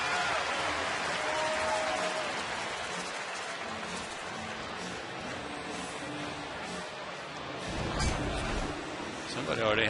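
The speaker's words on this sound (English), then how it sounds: "And a big hand from the crowd." A ballpark crowd in Atlanta applauds during a baseball game between Milwaukee and Atlanta, a dense, sustained clapping wash under a commentator's voice, swelling louder near the end.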